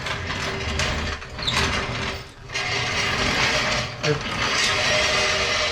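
A floor jack converted into a lawn tractor lift is dragged around and swivels, giving loud ratcheting, grinding metal scrapes with brief pauses, fairly close.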